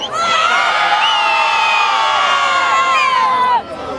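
A crowd at a carnival float award ceremony in Torregrotta lets out a loud, sustained collective shout and cheer on cue, high excited voices held for several seconds before cutting off abruptly.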